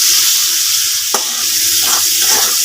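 Shrimp sizzle in hot oil in a pan, a steady close frying hiss with a sharp crackle burst near the middle and a few softer spits after, no voices.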